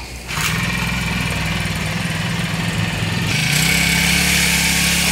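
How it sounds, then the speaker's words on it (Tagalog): A NAPSA 4-stroke engine runs at a steady, buzzing idle, then revs up to a louder, higher-pitched drone partway through, close by and with no talking. "Ito po yung NAPSA 4-stroke."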